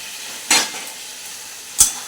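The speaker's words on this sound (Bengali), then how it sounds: "এবার পটলগুলো দিয়ে একটু নেড়ে নেব।" Pointed gourd (potol) stirred in spiced oil in a pan, a soft steady sizzle broken by two sharp scraping clinks of a spatula against the pan.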